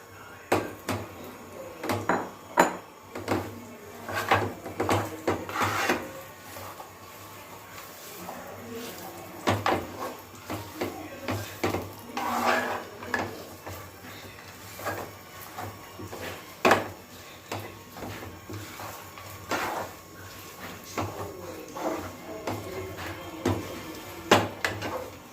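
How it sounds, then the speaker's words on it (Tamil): Dates are stirred in ghee in a pan for laddu, making intermittent scraping, knocking and clattering against the pan. Some sharper clinks stand out over a low, steady background. "இந்த பேரிச்சம்பழத்தை போட்டு கிண்டணும்."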